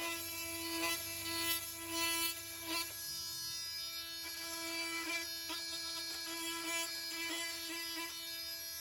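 A Milwaukee M18 Fuel oscillating multi-tool cutting wooden fence rails gives a steady buzzing whine with repeated short surges as the blade bites, moderately loud and close throughout.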